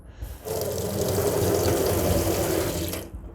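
A sink tap is turned on and gushes in a steady, close stream for about two and a half seconds, then shuts off, leaving quiet before and after.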